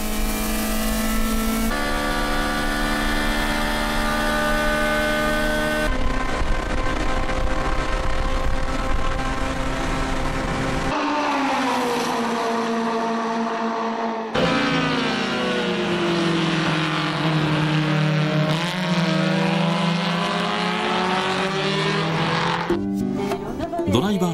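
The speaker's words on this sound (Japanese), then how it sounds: "ここからひたすらスリップストリームを使った全開走行が続く。" Race cars running flat out in slipstream at Fuji Speedway, with loud sustained engine drone and shifting pitch as cars pass and change gear, and a narrator talking over it.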